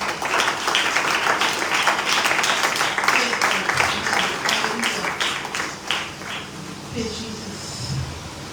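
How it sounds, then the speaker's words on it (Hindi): A church congregation at a Sunday sermon claps steadily and loudly for several seconds, the applause thinning toward the end as a voice begins to speak. "आइए जोरदार तालियां बजाएं।"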